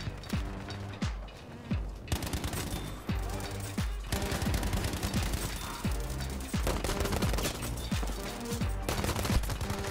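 Gunfire from the video game Battlefield V plays as dense, continuous action audio, with repeated sharp shot transients and mechanical clatter running loud throughout.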